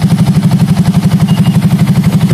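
A Yamaha motorcycle engine, one of the Xabre, Vixion, MX or R15 models with an overheating radiator fan problem, idles close by in a steady, even pulsing rhythm, loud and alone.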